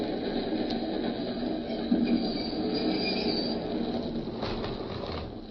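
High metallic squeals of train wheels grinding on rails, rising and fading over a low rumbling carriage, no voices.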